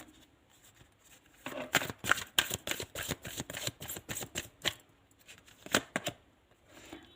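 An angel oracle card deck is shuffled in rapid riffling bursts, a run of crisp papery flutters followed by a brief pause and another short shuffle, close and alone.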